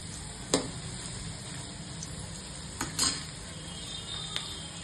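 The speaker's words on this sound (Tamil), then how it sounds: "கருவேப்பிலை போட்டுக்கலாம்" Curry leaves drop into hot oil for a turkey berry kuzhambu, giving a steady, fairly quiet sizzling hiss broken by a few sharp clicks.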